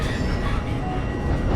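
A metro train rumbles along the track with a steady, loud rolling roar and faint clatter, heard from inside the carriage.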